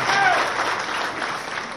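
A crowd at a political party gathering with the Andhra Pradesh chief minister claps together in a sustained burst, the applause fairly even throughout with a faint voice near the start.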